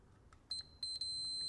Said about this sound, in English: I should put these leads on the blue and the white, and it should beep